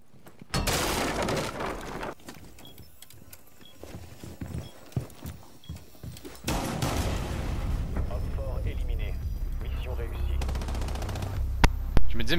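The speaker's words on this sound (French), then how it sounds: "arrête, arrête de tirer." Gunfire from the Rainbow Six Siege video game comes in rapid bursts and scattered shots. Players talk excitedly over the shooting and in the pauses between it.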